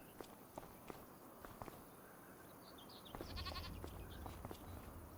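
Baby goats in the farming game Farming Simulator 25 let out a few short, high bleats. Soft footsteps tap throughout, and a low farm ambience swells partway through.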